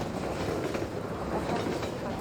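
A train rolling past in the game Half-Life 2, a steady continuous rumble with faint rail clatter and no clear beginning or end, loud and close throughout.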